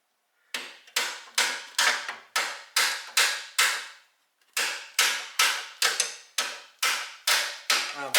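A hammer taps repeatedly on the belt tensioner bolt of a 2003 Mitsubishi Galant 2.4L 16V, with about sixteen loud, sharp metallic blows in two quick rhythmic bursts separated by a brief pause, close up.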